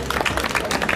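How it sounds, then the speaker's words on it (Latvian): Audience applause at a book festival award ceremony, a brief burst of steady clapping from a crowd in a hall. "Aplausi, tā."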